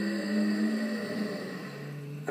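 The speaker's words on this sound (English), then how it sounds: "the mouth is closed, you're pulling the air through the throat." Ujjayi-style yoga inhale drawn through the throat with the mouth closed, a steady, close, breathy hiss with a faint tonal rasp lasting about two seconds, heard alone without talk.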